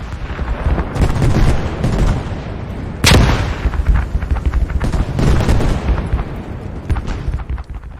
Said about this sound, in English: there is constant flak going off